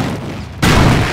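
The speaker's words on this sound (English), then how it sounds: "The Panzer is able to fire more quickly" A Panzer tank cannon in the video game Company of Heroes fires a single loud, sudden blast partway through, following a quieter stretch of battlefield ambience.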